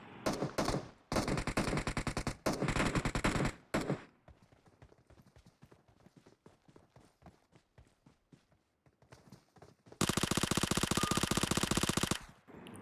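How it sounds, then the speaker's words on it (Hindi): Gunfire in the mobile battle royale game PUBG Mobile, loud rapid automatic bursts at the start and again near the end, with a stretch of quieter footsteps and movement between them. "लेकिन मुझे पीछे से फायरिंग आती है"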